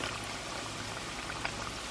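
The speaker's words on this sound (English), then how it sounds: "Okay, so we're gonna fry these for about, I don't know, maybe 2 minutes each side, depending on how hot your oil is" Taquitos fry in a pan of hot oil with a steady, dense crackling sizzle throughout, a soft continuous bubbling hiss with small pops and no voices.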